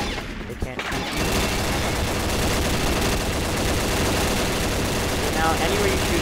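Rapid gunfire in the shooter video game Combat Arms, a dense continuous burst of automatic shots that starts after a brief lull and runs steadily to the end.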